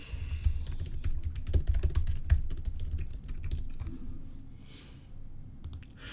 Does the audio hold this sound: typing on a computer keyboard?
yes